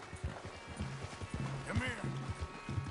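A galloping horse in the video game Red Dead Redemption 2, its quick rhythmic hoofbeats running steadily throughout, close and clear, while a rider talks over it.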